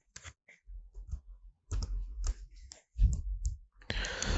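Computer mouse clicks at a desk during a Windows screen-tool demo, a few crisp close clicks with soft keyboard-like taps between, quiet and without talk.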